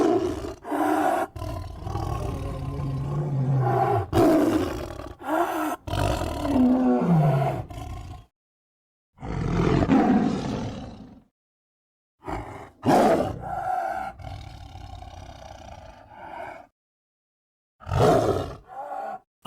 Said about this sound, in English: the most famous sound that the Siberian tiger makes is its roar